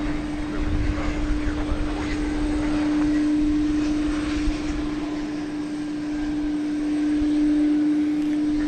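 An MD-11 trijet's engines drone steadily at DFW Airport at night, a continuous distant roar with a constant tonal hum running through it.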